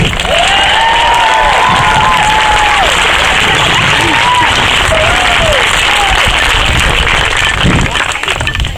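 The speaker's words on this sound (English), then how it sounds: "So a big cheer for everybody that helped out." A large outdoor crowd applauds and cheers for the sponsors at a match event, producing a dense, loud, continuous roar of clapping, with whistles and shouts rising out of it throughout.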